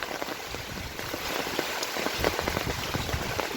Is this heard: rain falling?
yes